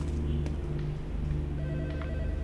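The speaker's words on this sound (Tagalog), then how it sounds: "Ay, may telephone narinig yan." A telephone rings in a video game, a steady loud electronic ringing that runs continuously over a dense, busy game background.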